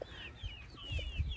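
Backyard hens from a small homestead flock cluck in short, soft bursts, close by and repeated through the moment, with light outdoor ambience behind them.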